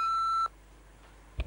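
A quiz show buzzer sounds a single clear electronic beep, held steady for about half a second before cutting off, with faint room noise and a small knock afterward.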